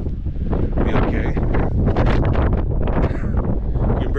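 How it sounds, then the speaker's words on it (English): Strong, steady wind on a mountaintop buffets the microphone in loud, continuous gusts, roaring across the whole clip with no pauses. "Very windy, so we're gonna see if the drone will"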